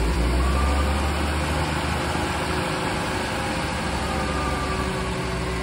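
A cold 1980 Jeep CJ7 engine fitted with Fitech fuel injection runs at a steady, close idle, a continuous low rumble with no talk over it.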